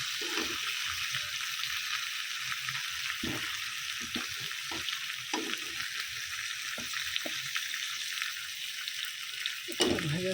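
Food frying in a pan during home cooking, a steady soft sizzle with occasional clinks and stirring knocks, close and continuous without talk.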